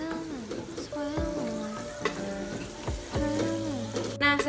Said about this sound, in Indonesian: mentega secukupnya. Lalu kita aduk seperti ini hingga mencair.